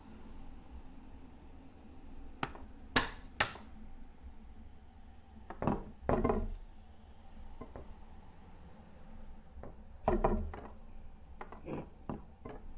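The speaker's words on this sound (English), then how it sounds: "You can kind of nudge stuff with your hammer as well." Wooden boards of a picnic table under construction are tapped and nudged with a hammer, giving scattered sharp knocks in small clusters over a quiet background.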